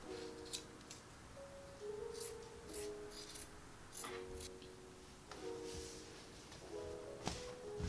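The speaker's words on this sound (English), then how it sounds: "I'm just going to trim down these edges and turn it right side out" Scissors snip along the edges of stretchy swimsuit fabric, giving quiet, close, crisp cuts in short irregular bursts with small pauses between them over a low background hush.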